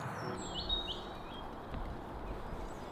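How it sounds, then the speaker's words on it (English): Faint birds chirping and singing in the distance among trees in Scotland, over a steady outdoor background hiss. "with the trees come a lot of birds. We've literally just been hearing singing all day."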